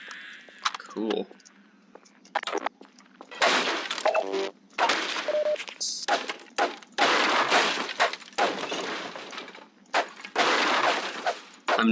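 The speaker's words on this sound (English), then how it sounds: "I just like smashing crates." Wooden crates are smashed with a crowbar in a video game level, giving a run of loud, sharp cracks and splintering crashes in quick bursts, with someone talking between them.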